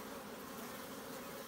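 Honey bees in a nuc hive during an oxalic acid treatment give off a steady, faint, continuous buzzing hum with no break and no speech.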